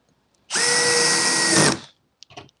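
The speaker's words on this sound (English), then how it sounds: "So here I'll take the drill," A power drill drives into the base of a homemade dog grooming arm in one steady whir of just over a second, ending abruptly, followed by a couple of faint clicks.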